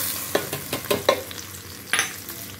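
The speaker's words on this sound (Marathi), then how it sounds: "चला आता आपली फोडणी पण तयार आहे, तर आता आपण ह्याच्यावरती टाकून देऊया चटणीवर" Hot tempering poured over a peanut chutney, a close sizzle with a handful of sharp crackles and spoon taps spread across a couple of seconds, without voices.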